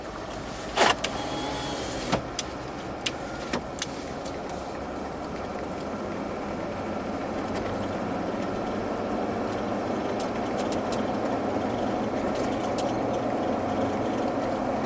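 A Jeep Rubicon with a cam timing fault (P0390, P0394) drives at light throttle, its engine a steady, moderate hum under road noise for the whole stretch, with a few sharp clicks near the start.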